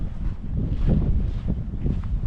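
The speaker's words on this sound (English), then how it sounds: "It's so windy, so cold" Strong, cold wind on a hunting ground in New South Wales roars and buffets the microphone in continuous low gusts, with faint rustling underneath.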